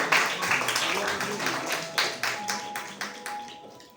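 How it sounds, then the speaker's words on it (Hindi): A crowd claps in a steady burst of applause at a Hindi poetry recital, fairly close, with a voice heard beneath it as the clapping gradually thins out. "एक बार जोरदार तालियां।"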